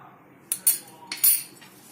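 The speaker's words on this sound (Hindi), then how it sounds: "फिर इस मिक्सचर को मिक्स करेंगे।" A metal spoon mixing black salt, black pepper and chaat masala in a bowl, giving four quick, bright clinks in two close pairs against a quiet background.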